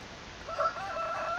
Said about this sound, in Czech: Slepice, jsem se lekl.